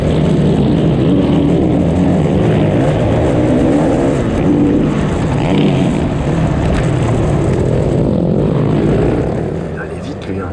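Supermoto motorcycle engines roar loudly during a dirt-track race, hitting the rev limiter, in a continuous dense drone with people talking over it.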